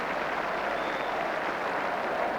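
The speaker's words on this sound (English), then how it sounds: "he's getting a very warm round of applause from the crowd" A football crowd gives a warm round of applause as a substituted player leaves the pitch, a dense, steady wash of clapping filling the whole stretch without a break.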